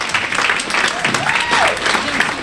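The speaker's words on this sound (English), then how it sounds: "Give yourselves a round of applause." Comedy-show audience applauding, a dense wash of clapping from a crowd heard close and fairly loud, with a voice speaking over it.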